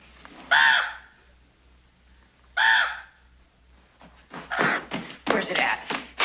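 A crow gives two loud, harsh caws a couple of seconds apart in a Western cowboy film scene. Voices then speak over steady low background thumping.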